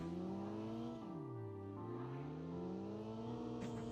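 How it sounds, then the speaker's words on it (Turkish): Car engine in a Call of Duty game match, a steady mid-pitched drone that dips and then climbs again as the vehicle changes speed, with no talking over it. "Ya bu yeni gelen arabaların da seslerini düzeltseler ya ne güzel olacak."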